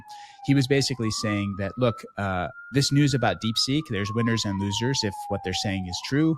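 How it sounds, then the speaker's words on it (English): A siren wails steadily in the background, rising and slowly falling, while someone talks continuously over it. "sorry for the sirens in the background"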